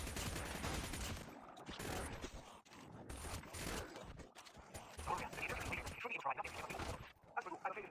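Video-game gunfire while shooting zombies: dense, fast bursts of shots layered in a busy, continuous mix, fairly loud and close throughout.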